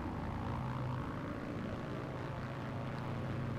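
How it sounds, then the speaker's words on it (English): Propeller plane engine in the Battlefield 1943 video game: a steady, droning buzz holding at an even level throughout, moderately faint with no speech. "There's a mean bad plane."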